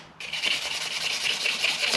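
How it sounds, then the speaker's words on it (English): Fine 500-grit sandpaper rubs against the edges of a spoon ring held in a vise, a steady close scratchy hiss that starts after a brief quiet moment and keeps going with an even back-and-forth rhythm. "take this time with some 500 grit and just kind of, we're just softening some edges here"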